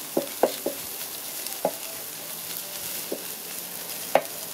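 Spoon stirring chili powder and ground fennel into beef curry masala frying in a pan, with several sharp scraping clicks over a steady soft sizzle, close and fairly quiet.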